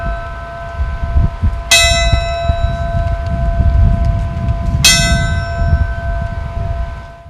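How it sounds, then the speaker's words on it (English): A gong struck twice in memory of attack victims, each stroke a loud bright ring with a long sustained shimmer that lingers over a low rumbling background hum. "we ring the gong"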